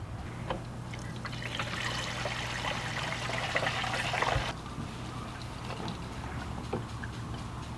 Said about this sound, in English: it's still dripping a little bit